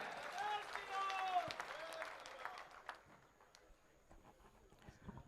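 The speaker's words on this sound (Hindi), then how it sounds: "वो कुछ बोले उसके पहले एक बार और जोरदार ताली बजाएं" Applause from an audience at a mahakumbh gathering in Rajasthan, moderate clapping that fades after a couple of seconds, mixed with a voice and a sustained tonal sound, then quieter scattered noises.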